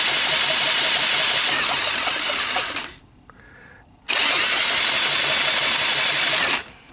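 A loud power drill with a 17 socket turns over a seized 1986 Honda ATC200X engine for about three seconds, pauses briefly, then whirs again for a few more seconds at a steady, grinding pitch.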